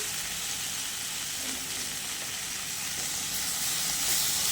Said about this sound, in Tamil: இதையும் சேர்த்து ஒரு வதக்கிட்டு காமிக்கிறேன்.